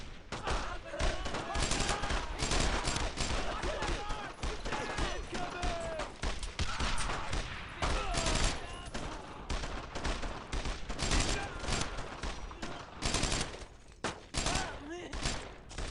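Gunfire in the World War II shooter game Brothers in Arms: Road to Hill 30, a dense and loud fusillade of rifle and machine-gun bursts that barely lets up, with battlefield voices mixed in.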